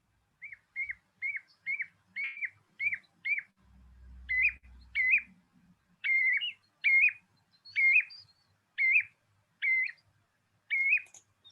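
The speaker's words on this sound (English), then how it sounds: "that is the sound of the ringed plover that you'll hear on the beach" A ringed plover's call is played back: clear, repeated piping whistles in short, evenly spaced bursts, with a brief low thump partway through.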